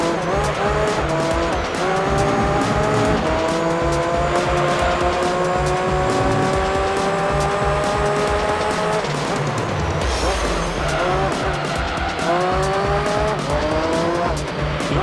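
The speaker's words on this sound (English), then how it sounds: "Wait, drift! Tokyo drift!" A car drifting in the racing video game Gran Turismo 3, with a loud, continuous engine whine rising and falling through the gears and tires squealing as it slides.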